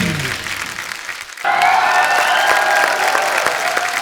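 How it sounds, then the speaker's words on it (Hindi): Studio audience applause and cheering for actress Kangana on a Hindi TV comedy talk show, starting quieter and swelling into sustained loud clapping with crowd cheers from about halfway on. "तो एक बार कंगना के लिए जोरदार तालियां।"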